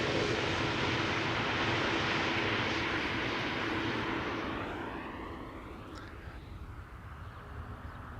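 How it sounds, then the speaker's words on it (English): An airliner landing at Amsterdam Schiphol Airport without thrust reversers, a loud broad engine roar that slowly fades and drops in pitch as the aircraft passes, leaving a quieter distant rumble. "No reversal landing."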